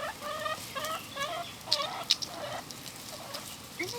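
Small chicks cheeping and chirping in a run of short, faint high peeps, with a few sharper squeaks standing out, heard alone with no talk.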